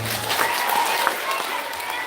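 An elementary school audience applauding after a concert, a continuous wash of many small hands clapping at an even level with crowd noise beneath.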